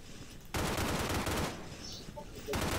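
Automatic gunfire in the video game S.K.I.L.L. Special Force 2, two loud sustained bursts of rapid shots separated by a quieter gap with faint background sounds.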